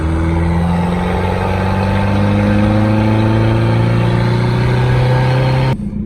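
A Chevy S10 pickup with a turbocharged 2.2L engine accelerates hard, its loud engine tone climbing steadily in pitch through a gear with rising whine, then dropping suddenly near the end as the throttle lifts.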